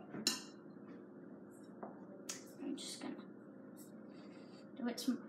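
Caramel blondie batter being mixed by hand in a bowl, with quiet, irregular clinks and scrapes of utensil against the bowl over a low background hum.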